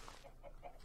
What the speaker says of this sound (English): And oh, there's our chickens in there.